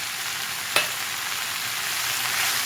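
Boroli fish curry base frying and being stirred in a pan: a close, continuous hiss with one brief sharp click of the utensil early on, no voices.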